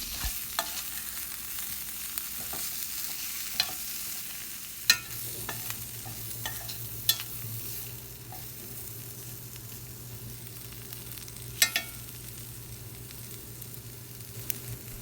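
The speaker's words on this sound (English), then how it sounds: "Mix the masala with potato and it has to get coated very well." Potatoes coated in coriander masala are stirred in a pan for a brinjal potato curry, a soft steady sizzle running underneath with sharp scrapes and clicks of the spoon against the pan, alone without talk.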